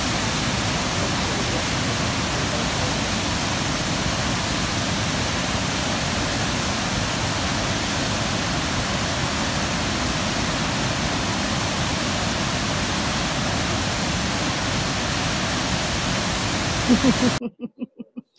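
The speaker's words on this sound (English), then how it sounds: "Just everybody breathe into that flowing water." Steady, loud rush of flowing water, a dense unbroken wash that fills the whole stretch before cutting off abruptly near the end.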